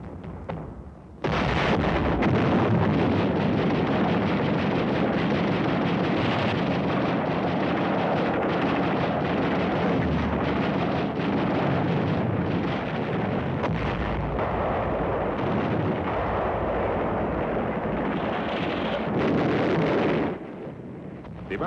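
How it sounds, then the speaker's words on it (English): Heavy gunfire pounding an American beachhead during a World War II Pacific landing against Japanese defenders, a dense, continuous roar of explosions and shooting that runs loud and unbroken for about twenty seconds. "They begin heavy fire against the beachhead."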